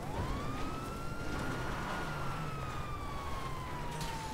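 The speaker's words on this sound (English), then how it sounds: "One does not simply in GTA, get in a cop car without putting the sirens on." A police car siren in GTA wails in one long slow rise and fall, fairly faint over a dense background hiss and rumble of traffic, with no voices.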